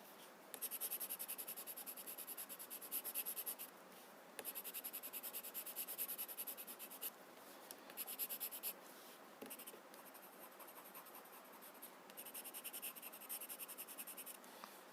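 White chalk rubbed across a Zentangle paper tile, a soft dry scratchy shading that runs in long continuous strokes with brief pauses, close and fairly quiet, no talking.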